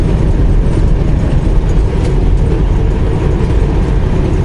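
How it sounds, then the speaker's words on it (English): A truck passes on an open desert road amid sand and dust storms, a steady loud rumble of engine and tyres that fills the whole stretch with low roar and wind-like hiss. "They even got truck driver passing."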